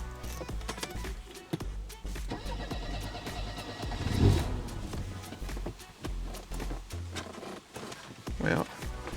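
A worn Mercedes 190E cranks and tries to fire in a series of uneven engine bursts and sputters that come and go, while a person talks over and between them.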